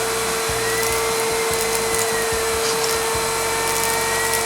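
A Riccar Vibrance premium vacuum cleaner with a spinning brush runs steadily and loudly, a constant motor whine with a low rumbling hum pulsing underneath as it is pushed over carpet.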